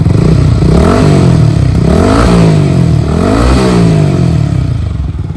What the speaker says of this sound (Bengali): এখন আমরা ইয়ামা এমপি ফিফটিনের সাউন্ডটা শুনবো